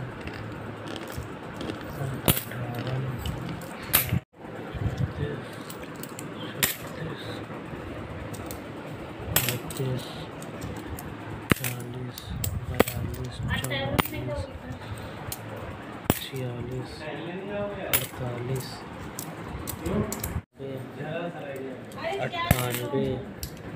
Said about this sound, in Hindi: थोड़ा सेब भी खाते रहे और साथ में सिक्के भी गिनते हैं